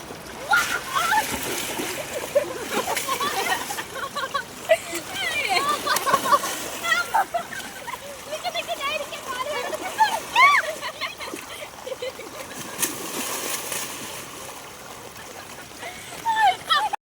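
Repeated splashing and sloshing of rainwater in a paddy field close by as people play in it, with excited voices talking and calling over the splashes.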